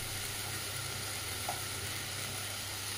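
Masala with ginger-garlic paste, turmeric and chicken fries for biryani in a pan, giving a steady, even sizzle that continues uninterrupted throughout, close and moderately loud, with no other sounds.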